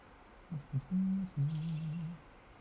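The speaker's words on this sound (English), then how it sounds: "Sound of the birds in this game is so comforting in the morning time in summer" Birds in the Dwarf Fortress video game on a summer morning: a few low, hollow hoots, followed by a faint, rapid, high twittering trill, with no voices.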